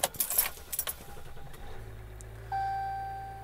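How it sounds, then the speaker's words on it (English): Keys jangle for about a second before a truck engine cranks and catches, then settles into a steady low idle with a faint whine on top, fairly quiet and close. "I'm going to start the truck."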